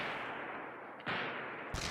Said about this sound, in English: That's the ship's cannon. They're shooting out the stockade.